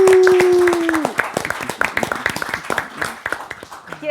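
Studio audience at a spoken-word show breaking into applause as a sustained tone cuts off, scattered sharp claps tapering off toward the end.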